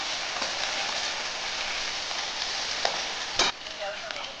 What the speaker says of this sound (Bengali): আমার আলু আর বেগুন ভাজা হয়ে গেছে, এর মধ্যে আদা বাটা রসুন বাটা দিয়ে দিচ্ছি।